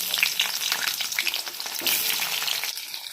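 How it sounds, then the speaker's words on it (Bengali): Potatoes frying in hot oil seasoned with whole garam masala, mace and bay leaf, a continuous crackling sizzle with popping bursts and faint stirring, close and steady throughout. "আলুগুলো দিয়ে ভেজে নেব।"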